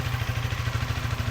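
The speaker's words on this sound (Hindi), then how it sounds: "अब मैं इसको अच्छे से थ्रॉटल लूँगा।" A Hero Karizma XMR motorcycle engine runs close by with a steady, rapid low thumping pulse as it is throttled, with no voices.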